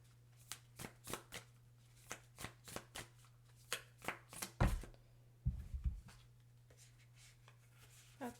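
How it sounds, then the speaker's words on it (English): Oracle cards shuffled by hand in a string of quick riffling bursts with short pauses, near and fairly quiet over a steady low hum, ending with a couple of heavier thumps as the deck is squared. "so I'm going to shuffle again"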